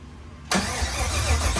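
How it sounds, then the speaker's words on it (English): An LT4 V8 swapped into a 1993 Chevy truck spins on its starter with the fuel disconnected, producing a sudden, steady, close cranking whir that does not catch. "Hear it crank? Yeah, let's hear it crank."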